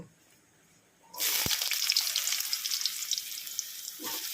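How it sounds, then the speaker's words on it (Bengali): Potatoes hit hot oil with cumin, dried chilli and bay leaf and burst into loud, steady sizzling frying that continues close up, with a brief stir near the end. "আলু হালকা ভেজে নেব"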